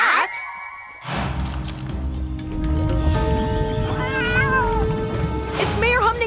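Cartoon kittens meow and caterwaul in a run of rising, wavering cries, loud and close, with cartoon characters talking over and between them.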